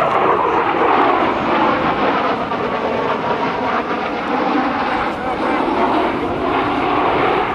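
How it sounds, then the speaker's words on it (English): F/A-18F Super Hornet flying inverted at about 525 mph with power back to idle, a steady broadband jet whoosh and rumble of a low-power pass, loud and continuous throughout with no talking. "Listen to the inverted whisper pass."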